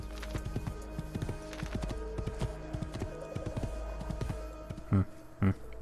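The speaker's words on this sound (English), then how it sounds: "Hey, let's get a new horse." Horse hooves clip-clop in the Assassin's Creed 2 video game, a quick rhythmic series of hoof strikes at moderate distance, ending with two louder thuds.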